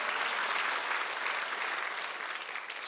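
Church congregation applauding during a Sunday worship service, a dense, steady wash of many hands clapping together that carries on without a break and eases off slightly toward the end.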